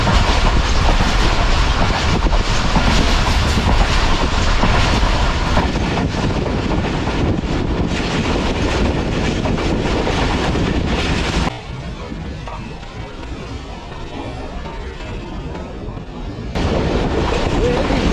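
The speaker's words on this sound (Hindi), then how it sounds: "इस वक्त ट्रेन पहुँच रही है कलांच वाला रेलवे स्टेशन पर" The Shalimar Express rolls into Kalanch Wala railway station in Pakistan, a loud continuous rumble of wheels with rhythmic clickety-clack heard from on board, dropping to a quieter roll before surging again.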